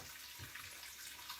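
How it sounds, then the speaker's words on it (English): Hot water runs from a kitchen tap over thawed lemons. The stream is soft and steady, fairly quiet and brief, with a faint splashing hiss and no talking. "I'm gonna do is just gonna run hot water on these."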